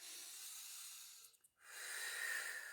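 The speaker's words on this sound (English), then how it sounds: "Let's do a couple deep breaths" Long, deep breaths during a stretching workout, a drawn-out hissing exhale, a brief pause, then another full breath close to the microphone.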